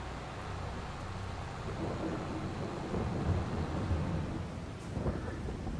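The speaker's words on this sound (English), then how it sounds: "We won't be listening to that lightning for too long." Rumbling thunder and steady rain from a thunderstorm in the farming video game Farming Simulator 22, a continuous low roll with a sharper crack near the end and no talking.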